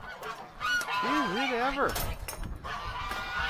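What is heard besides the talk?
ducks honking outdoors in the cold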